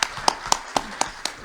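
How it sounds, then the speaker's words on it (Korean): Short burst of clapping from a seminar audience of university presidents, six or seven distinct, evenly spaced sharp claps, close and fairly loud, rather than a full crowd roar. "혹시 격려의 박수 좀 부탁드려도 될까요?"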